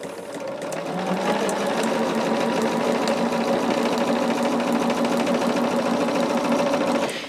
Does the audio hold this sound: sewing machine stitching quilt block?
yes